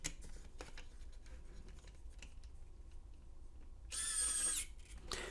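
An xCool mini electric screwdriver removing screws: a single short, loud whirring burst near the end, after a stretch of quiet handling.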